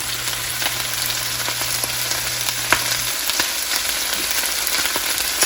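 Cilantro and celery sizzle steadily in a hot pan of sautéed shrimp, a constant bright frying hiss with light crackles, close and alone, with a low hum fading out midway.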